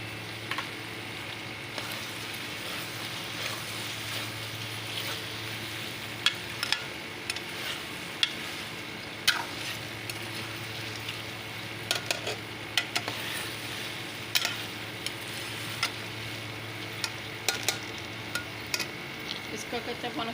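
A steady, quiet sizzle of a teaspoon of garlic ginger paste frying in a pan, with occasional scrapes and clinks of a spoon stirring throughout.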